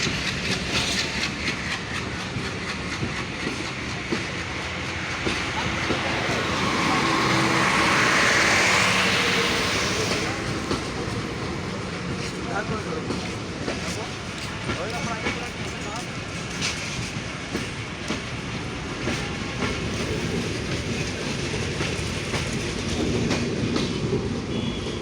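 A WDM-3D diesel locomotive, number 6531, hauls the Barendra Express out of Saidpur railway station, its steady rumble and wheel clatter running continuously throughout, swelling briefly midway, while someone talks over it.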